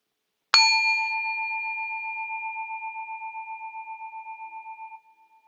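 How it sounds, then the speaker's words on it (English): A meditation bell is struck once to close a meditation session, its clear metallic tone ringing out and slowly fading with a gentle pulsing shimmer over about four seconds, alone in a quiet room. "I'll invite the bell to bring our meditation to an end."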